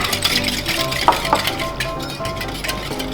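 A mix of liquids, salt and sugar for pancake batter is stirred briskly in a bowl. The whisking is continuous and close, with a couple of small clinks against the side.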